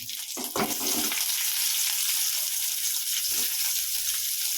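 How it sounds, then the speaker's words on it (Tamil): Onions drop into a hot pan over ginger already frying, setting off a loud close sizzle that holds steady, with a few soft knocks at the start and near the end. "இப்போ வெங்காயம் போடுறேன்"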